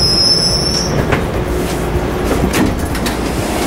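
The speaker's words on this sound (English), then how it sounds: "Maybe there's some train traffic." A PATH subway train running from World Trade Center toward Newark gives off loud, steady rumbling with high-pitched wheel squeal at the start and occasional rattling clicks, heard from inside the car.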